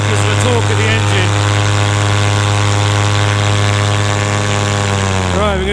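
Paramotor engine in flight during a left turn under an Ozone Sirocco 2 wing, a loud steady buzzing drone with a strong low hum, easing slightly near the end.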